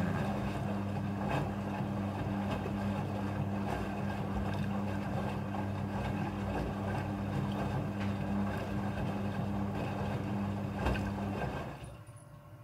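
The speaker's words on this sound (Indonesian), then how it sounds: "jumlah air yang dibutuhkan untuk proses pembilasan ini diatur secara otomatis oleh mesin cucinya" A Midea front-loading washing machine fills with rinse water for jeans, a steady low hum and rushing water flow running continuously before tapering off near the end.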